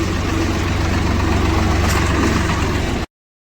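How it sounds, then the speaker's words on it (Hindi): A tractor engine running steadily, a loud, close, low idling rumble with no speech, cutting off abruptly near the end. "हम ट्रैक्टर में बैठ चुके हैं।"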